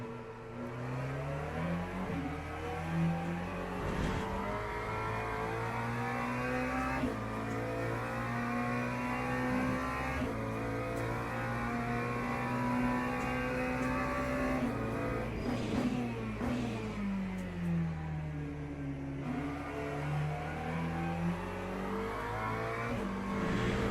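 Valkyrie race car engine in a Le Mans racing video game, loud and continuous, rising and falling through repeated gear changes and braking dips, with shifting pitch sweeps and no voices over it.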